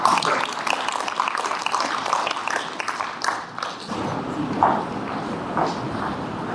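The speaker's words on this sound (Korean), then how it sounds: "윤원태 대표이사님을 박수로 단상위로 모시겠습니다" An audience at a civic climate workshop claps to welcome a speaker to the stage. Scattered, uneven clapping runs throughout over a busy room with footsteps and murmuring, and it shifts and thins partway through.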